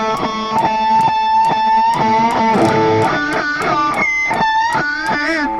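Distorted electric guitar pinch harmonics, the string grazed with the edge of the thumb, ringing out as a steady run of about a dozen sharp, squealing picked notes, loud and close with no talk.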